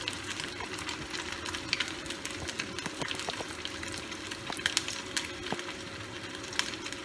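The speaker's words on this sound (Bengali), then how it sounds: "আমার মাছ ভাজা হয়ে গেছে" Fish, katla in a mango-flavoured dish, frying in a pan, giving a steady close sizzle with scattered small crackles and pops throughout, no voices.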